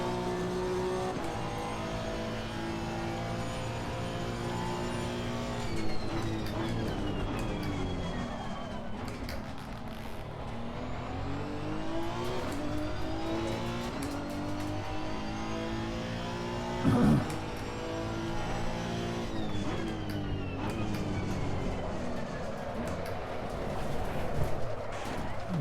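Honda NSX race car lapping the Hungaroring in Assetto Corsa Competizione, its engine droning steadily and rising and falling through gear changes at close range, with brief tire squeals and occasional sharper bursts, and no talk.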